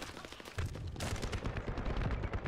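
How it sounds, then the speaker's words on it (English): Rapid automatic gunfire in the shooter video game The First Descendant, dense bursts of crackling shots, fairly quiet in the mix and continuous for the whole moment. "Bro, I'm getting shot."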